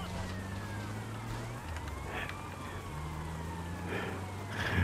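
Ambulance siren in the video game GTA Vice City, a wailing siren cycling through long rising and falling tones alongside a low steady horn-like tone, continuous over a vehicle engine rumble.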